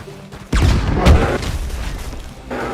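A fireworks flare in a hunting video game sets off a sudden deep boom that rolls and rumbles for about two seconds before fading, with a faint voice briefly heard afterward.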